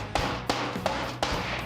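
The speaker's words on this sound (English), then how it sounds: "grab a big hammer and hit it" Heavy hammer blows striking a decaying car's body panel to knock it back into shape, four sharp metallic whacks spaced about a third of a second apart, close and loud with no talking.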